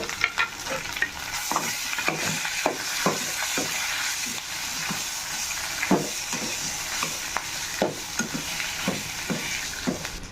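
Curry leaves and mashed potato frying in a pan for masala dosa filling, a close sizzle with repeated sharp scrapes and knocks of a spoon stirring at an uneven rhythm.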